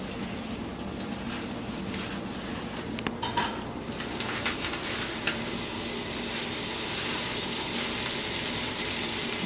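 Butter melting in a preheated pan for an oven-baked seafood boil with lemon garlic butter, a broad steady sizzle rising after a few clinks and scrapes of a pan and utensil, close by with no voices.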